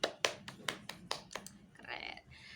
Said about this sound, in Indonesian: sekali lagi kita tepuk tangan buat kita semua ya